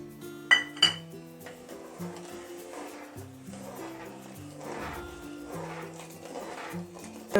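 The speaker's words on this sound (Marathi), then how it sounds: "फुल गॅसवरती पूर्ण साखर विरगळपर्यंत हलवत राहायचं" A spoon clinks against a pan a couple of times early on while two cups of sugar with cardamom powder and food colouring are stirred over full gas for boondi laddu syrup; steady background music carries through.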